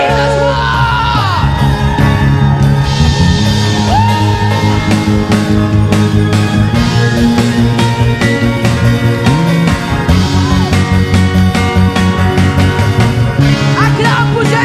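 A church congregation shouts and cheers for joy during lively gospel worship, their loud whoops and yells riding over full band music and singing throughout.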